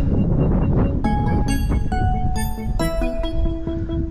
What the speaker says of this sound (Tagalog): Kaya napakalakas ng hangin.